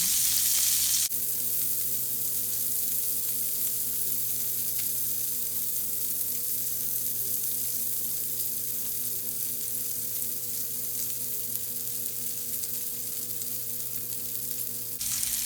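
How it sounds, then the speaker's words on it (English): Salmon fillets pan searing hiss in a hot pan with a steady, dense sizzle that runs unbroken and fairly loud, over a faint constant hum and no talking. "I believe it is called pan searing."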